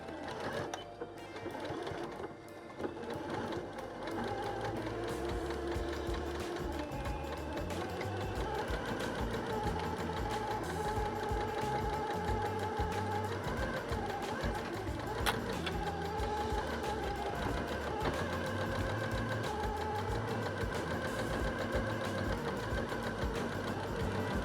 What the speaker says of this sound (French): la couture pour fixer le biais